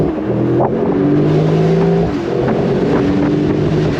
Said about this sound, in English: the sound of that twin turbo V8